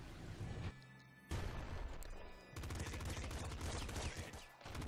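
Rapid pop rifle gunfire in the video game Nuclear Throne, bursts of dense, crackling shots over game music, pausing briefly between volleys.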